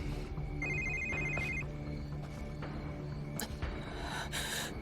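A telephone rings twice in a tense drama scene, a clear electronic double ring standing out over low background noise, with no talk during the rings.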